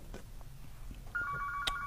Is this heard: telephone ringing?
yes